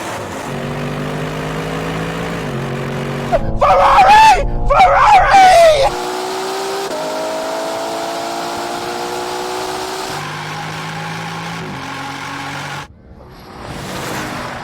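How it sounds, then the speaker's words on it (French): A Ferrari Purosangue SUV accelerates hard in a drag race, its loud engine note climbing in pitch through several gear changes and then fading, with people talking and shouting over it. "La Ferrari arrive maintenant."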